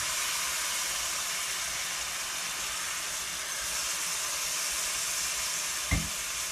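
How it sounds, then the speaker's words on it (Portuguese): White wine poured onto hot rice in a pan for artichoke risotto, giving a steady, continuous sizzle and hiss that holds evenly throughout, with a brief soft knock near the end. "agora que já aqueceu o arroz, vou acrescentar o vinho branco"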